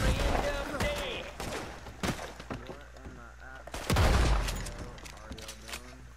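Gunfire from Red Dead Online, with several sharp shots and heavy thumping bursts spread across the moment, one loud impact standing out near the middle, mixed with game sounds and a voice talking throughout.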